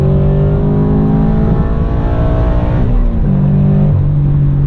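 A car drives past loudly while heard from inside a Toyota 86, its engine droning with shifting pitch as the sound sweeps by close and steady.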